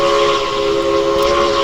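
Steady, loud chime-style locomotive whistle from the Railroads Online video game, a blue whistle blowing one continuous multi-tone chord throughout without any talking.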